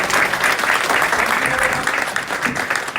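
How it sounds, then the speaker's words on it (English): Close, loud applause from an audience at a business meeting, dense and steady clapping that fills the room and eases slightly near the end, with some voices audible beneath it. "Now we give these 5 leaders a big round of applause."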